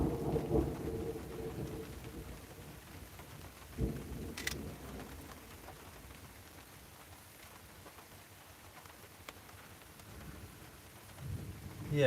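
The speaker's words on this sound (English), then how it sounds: "We've got a decent amount of thunder." Thunderstorm with rain falling steadily on surfaces and distant rumbles of thunder rolling in and out, a few birds calling faintly in the background.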